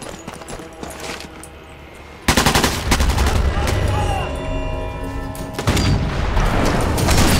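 Gunfire in Sniper Elite 4, in a firefight where grenades are also being thrown: a loud sharp shot at about two seconds starts sustained rapid firing and booming impacts, with another heavy shot near six seconds, loud and close.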